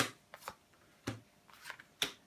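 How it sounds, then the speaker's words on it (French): Tarot cards being set down and slid into place on a table, a handful of soft, papery slaps and brushes spaced irregularly and close by, with no talking. "je dispose toutes les cartes de ton tirage"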